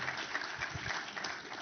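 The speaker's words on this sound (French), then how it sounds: "je vous demande d'applaudir Monsieur le ministre Mamadou Touré" An audience at a conference plenary session claps in a steady, faint burst of applause, with a little murmuring underneath.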